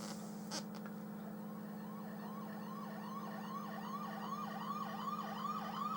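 Police car siren from the Amiga 500+ game F40 Pursuit Simulator, a repeating wailing sweep that rises and falls steadily over a constant low engine drone, growing slightly stronger toward the end.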